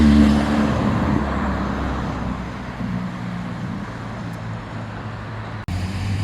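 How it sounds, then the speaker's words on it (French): A Ferrari sports car engine roars past nearby on a street in Maranello, loud at first and then fading into steady road noise, ending with a sharp click. "on peut voir pas mal de voitures passer."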